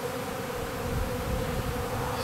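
Honeybees buzz steadily around an open hive on a warm April day during a frame inspection, a close, continuous droning hum with no talking.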